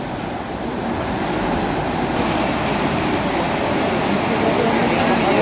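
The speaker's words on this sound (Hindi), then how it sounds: "देखिए अभी पानी का वेग देखिए।" Rain-swollen river in flood during heavy rain in Chhattisgarh, its fast water producing a loud, steady, unbroken roar throughout, close to the listener.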